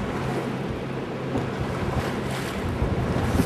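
Wind gusts buffet a sailboat under way on open water, a steady broadband rush with surging swells of wind noise across the microphone and water wash beneath, continuous and fairly loud with no talk.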